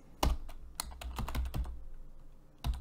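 Close computer keyboard typing comes as a handful of distinct, crisp keystrokes in an irregular pattern, with a brief quiet gap before a final sharp tap.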